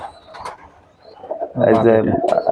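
A Kaldom tournament high-flying pigeon coos close by, a few soft notes followed by a louder, sustained rolling coo, with a voice alongside.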